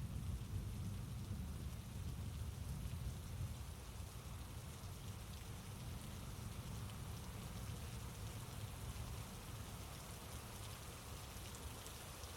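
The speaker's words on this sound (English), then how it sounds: "I used to hate rain at night." Steady rain falls at night in a continuous, even hiss with a heavy low rumble beneath it, with no voices.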